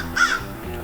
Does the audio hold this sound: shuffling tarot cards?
no